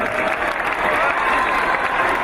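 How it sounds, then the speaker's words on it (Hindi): A gathered audience at a school event in Udaipur greets an arriving guest with loud, sustained applause, dense continuous clapping that stays strong and close from start to finish. "आपसे अनुरोध है कि उनका भी जोरदार तालियों से स्वागत करें।"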